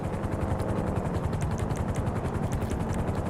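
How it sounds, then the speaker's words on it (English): Sparrow helicopter in the video game GTA 5 Online, a loud, steady rapid rotor chop with an engine whine, continuous and close for several seconds with no voices. "Let's try to use the Sparrow Chopper to escape."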